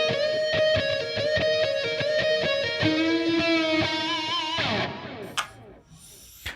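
Solo distorted electric guitar plays the second phrase of a song's solo: quick repeated picked notes, then a long held note with vibrato, ending in a few brief scratchy noises and near silence.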